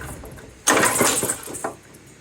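Billy Goat QB884H blower engine cranking in a failed start attempt, a sudden loud burst of rough engine noise lasting about a second before sputtering and fading out.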